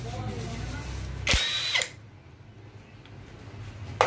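A power tool spins off a 10 mm bolt on a 2007 Toyota Harrier in a repair shop: one short, loud whirring burst of about half a second, followed by quieter workshop background.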